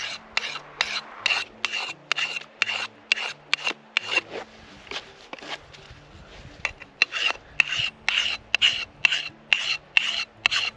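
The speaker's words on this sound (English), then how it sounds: "my axe is pretty old and dull, so I need to put a new edge on it" A metal file rasps rhythmically across the edge of an old, dull axe, with steady back-and-forth strokes repeating close up throughout, briefly pausing midway, outdoors at a snowy campsite.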